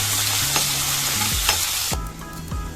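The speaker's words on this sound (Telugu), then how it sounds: "పచ్చిమిర్చి అంతా వేయించుకోవాలి" Green chillies fry in a pan for a raw mango and coconut chutney, giving a loud, steady sizzle up close, and a spoon scrapes and knocks against the pan several times; no talking.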